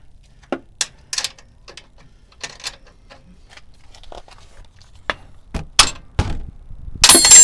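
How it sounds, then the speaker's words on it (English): Scattered sharp metallic clinks and knocks of a hammer striking metal during strut removal on a second-generation Toyota Tacoma 2.7L ring out irregularly with quiet gaps, then a denser burst of clanking at the end. "My trusty hammer."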